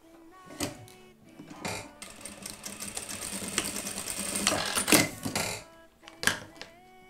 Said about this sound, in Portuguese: E passo um pespontinho aqui.